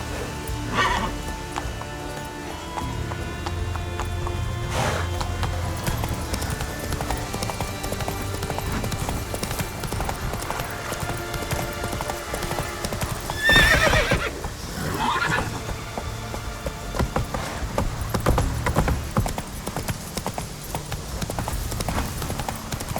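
Horse hooves clip-clop at a gallop through game audio in The Witcher 3, with neighs and whinnies breaking in midway over layered music and ambient sound, loud and steady throughout.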